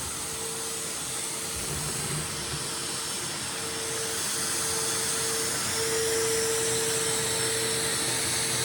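A shop vac running steadily and blowing dust across a floor: a loud, constant, close whooshing roar with a thin whine on top, holding level throughout with no talking.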